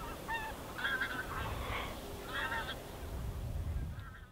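Wild geese honking on a spring goose hunt near Velsk, with repeated nasal calls from several birds overlapping at moderate distance over a steady low outdoor rumble.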